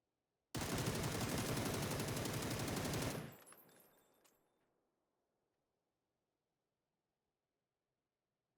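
Rapid automatic gunfire from the PUBG video game during a half-grip recoil test, a dense unbroken burst of about three seconds that cuts off and fades to silence.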